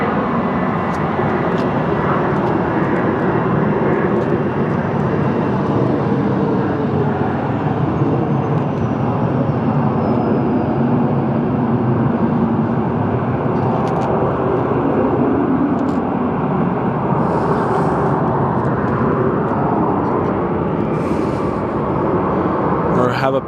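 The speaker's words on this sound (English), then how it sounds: "Almost sounds like a turbofan" A turbofan jet airliner at Phoenix Sky Harbor Airport makes a loud, steady, broad roar that holds without pause from start to end.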